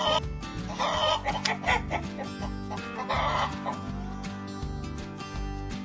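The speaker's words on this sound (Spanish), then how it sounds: "¿Cuál es el sonido que hace la gallina?" A hen clucks in repeated short bursts over a bright, bouncy children's music backing, the calls close and clear against the steady beat.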